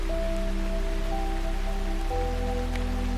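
Rain falls steadily beneath a great oak's canopy in a woodland, a soft continuous patter layered with sustained low musical tones.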